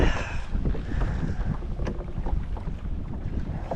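A kayak moves across open water with a steady wash of paddle strokes and hull splashing, heavily buffeted by loud wind noise on the microphone throughout, with no voices.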